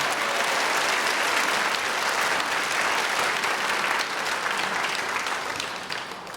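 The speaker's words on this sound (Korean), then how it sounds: "한번 하고 박수하겠습니다." Church congregation applauding at an appreciation night for volunteers, loud sustained clapping from a large crowd that holds steady and then begins tapering off near the end.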